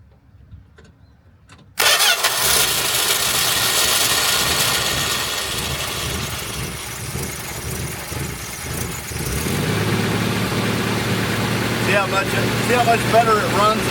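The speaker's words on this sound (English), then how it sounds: "let me go ahead and start her up for you" After a quiet moment, a Plymouth Valiant with a Slant 6 engine cranks and fires up abruptly, then settles into a steady, close, rumbling idle whose pitch shifts partway through, with a person talking over it late on.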